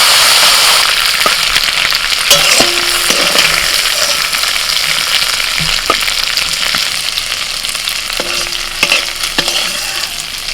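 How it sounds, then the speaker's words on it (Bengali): Prawns frying in hot oil in a pan on a home stove, a loud steady sizzle with scattered pops and the faint scrape of stirring, no voices. "চিংড়ি মাছ অল্প ভেজে তুলে নেবো"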